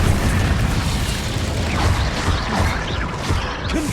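Incendio fire spell cast in the video game Hogwarts Legacy, a dense continuous roar of fiery, crackling game effects with rumbling booms, loud and steady throughout with no talk.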